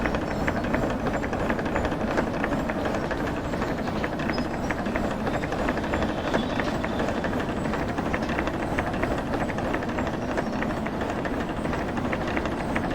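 Steam locomotive in the Derail Valley train game, a steady rapid chuffing and rumbling drive under continuous rolling noise, fairly loud and even throughout.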